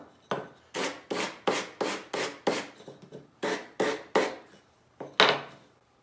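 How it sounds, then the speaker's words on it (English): Sanding a chamfer onto a small wooden piece by hand: about a dozen quick, rhythmic scraping strokes, close and fairly quiet, each a short rasping sweep with a brief gap between. "Then we could take our piece, sand a chamfer on it."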